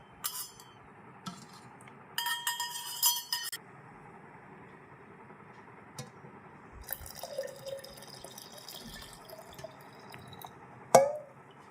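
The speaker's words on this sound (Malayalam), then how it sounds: "നമ്മൾ ബാക്കി വെള്ളം ഒഴിച്ച് കൊടുക്കുകയാണ്" Water poured into a pomegranate wine mixture with fermented yeast makes soft, faint splashing in two short bursts, with small drips and clinks in a quiet room.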